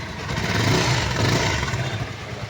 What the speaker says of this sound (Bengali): স্টার্ট করে ইঞ্জিন আওয়াজটা শুনে দিই